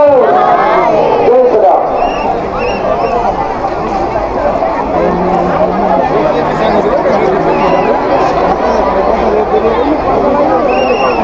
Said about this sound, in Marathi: किती नेक्स्ट लेवल गर्दी आहे काय आज बघा